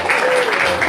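Applause from a small audience at a birthday party, a steady one-second patter of clapping hands at moderate loudness with a slight crowd murmur underneath.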